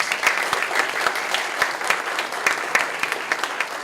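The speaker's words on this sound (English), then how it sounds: "So let's give them a really big round of applause." A student audience gives sustained applause for Vietnamese students who spent hours cooking for an event, a dense wash of clapping with distinct individual hand claps standing out, moderately loud and continuous.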